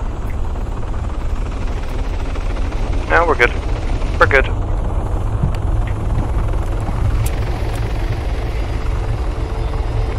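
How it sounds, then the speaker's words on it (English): A video game helicopter's steady whirring drone runs throughout, while voices speak briefly over it. "If somehow there aren't enough helicopters, just yell out and I'll make another one."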